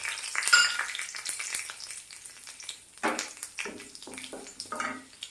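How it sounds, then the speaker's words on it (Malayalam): Mustard seeds and fenugreek sizzle and pop in hot oil as a tempering for a Kerala nadan ozhichu curry, with scattered crackles and short bursts of frying, fairly quiet and close. "കടുക് പൊട്ടി അതിലേക്ക് നമുക്ക് ഈ ഉലുവട്ട് കൊടുക്കാം."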